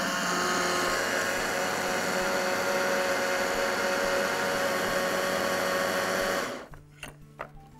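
A blender purees a vegan burger mixture of chickpea flour and plant-based egg until smooth, running loud and steady for several seconds before cutting off abruptly, followed by a few faint clicks and knocks.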